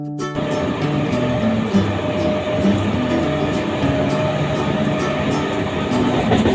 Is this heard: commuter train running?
yes